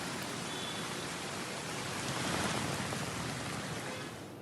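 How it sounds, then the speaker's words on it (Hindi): Steady rain falling during monsoon weather over northern India, a dense, even hiss of drops that swells slightly midway and fills the whole clip, with no voices. "रुक रुक कर दिल्ली एनसीआर में भी बारिश हो रही है"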